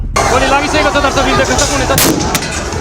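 Loud gunfire rings out at a protest clash, a rapid sharp burst of crackling shots close by, followed by two heavier blasts near the end, with crowd noise underneath.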